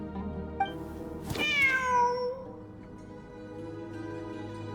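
A cat meows in the Genshin Impact game, one long drawn-out tonal cry rising then falling over steady background music, standing out clearly near the middle.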